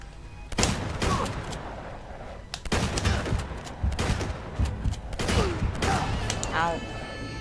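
Gunfire from enemies in the video game Uncharted 2: bursts of rapid automatic shots come in three loud waves, each fading into gaps. Echoing impacts and scattered clatter fill the gaps.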